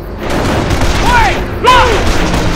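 Gunfire from the World War II strategy game Company of Heroes: heavy booming shots and bursts over a loud battle din, with whistling, arcing tones and a sharp blast near the end.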